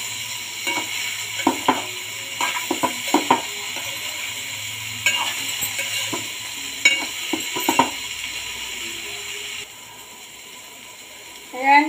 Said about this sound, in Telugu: ఇలా ఫ్రై చేసుకోవడండి, కలుపుతూ ఉండాలి ఇలాగా, లేకపోతే మాడి కట్టేస్తుంది.